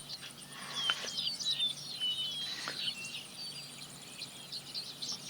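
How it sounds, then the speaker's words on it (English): Morning birds chirp and trill at dawn, several high thin calls scattered over a soft steady background hum, fairly faint and without any talking. "Shut up, birds. I'm trying to sleep."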